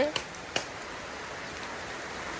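Constant rainfall in a village, after days of rain, makes a soft, unbroken hiss, with a couple of brief knocks near the start.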